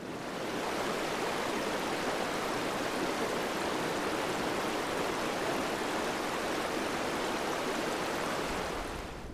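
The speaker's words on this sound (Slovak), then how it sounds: "je tu veľmi pekná rieka v takom kaňone" A river flows through a canyon in Abisko National Park on a cold morning, a steady, loud, broadband rush of water that stays unbroken from start to finish with no voices.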